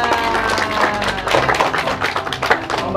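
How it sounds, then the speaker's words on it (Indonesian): Children clapping their hands along with a clown entertainer at a kids' learning-and-play event, a dense, steady patter of many hands filling the clip at close range, with voices and music mixed underneath. "Tepuk tangan lagi."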